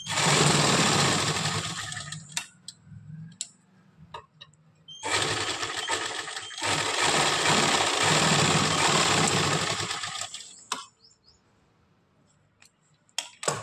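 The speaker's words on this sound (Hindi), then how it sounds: "यहाँ पे लॉक लगा देंगे पक्का 2-3 बार सिलाई कर देते हैं" A sewing machine hums and rattles loudly at close range while stitching a lock seam on trousers, running in two long bursts, each sewn back and forth several times, with brief ticks and handling noises between them and faint clicks at the end.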